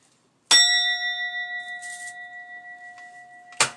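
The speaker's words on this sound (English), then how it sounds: "Let me ring the bell." A bell struck once rings out with a clear sustained metallic tone that slowly decays over about three seconds, followed by a sharp knock or second strike at the end.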